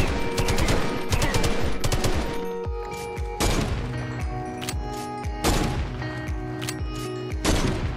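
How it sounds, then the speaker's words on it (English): Minecraft Just Enough Guns mod weapons firing: rapid submachine gun bursts and sharper single sniper rifle shots in repeated loud volleys, close and punchy, with no talking. "This expansion includes 3 submachine guns and 1 sniper rifle, broadening the arsenal available to players."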